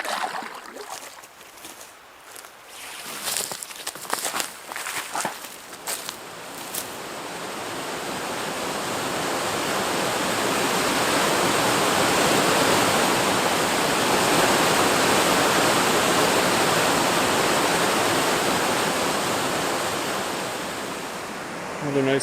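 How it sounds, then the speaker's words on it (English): Shangri-La Falls in Temagami roars steadily as a waterfall, the rushing sound rising and holding loud and continuous after a few seconds of quieter knocking and movement nearby. "I'm now approaching the Shangri-La Falls, which are supposed to be pretty scenic."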